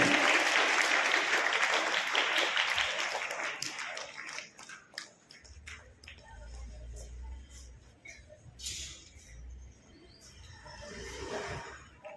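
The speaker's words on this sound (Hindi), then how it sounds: "तालियां लगातार बजती रहनी चाहिए" Sustained applause from students and staff at a school board-exam achievers' ceremony, loud and dense at first, thinning after about five seconds into scattered claps with a low hum, then swelling again briefly near the end.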